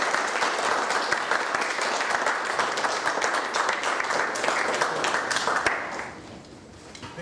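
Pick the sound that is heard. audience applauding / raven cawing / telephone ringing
audience applauding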